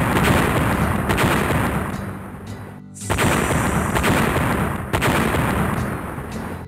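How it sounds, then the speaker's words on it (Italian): Rapid, heavy explosions and booming blasts in the Bud Spencer tribute video game Schiaffi&Fagioli, loud and almost continuous, with a brief lull near the middle before the barrage resumes, no voices. "Attenzione alle esplosioni."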